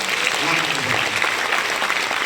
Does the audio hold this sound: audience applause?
yes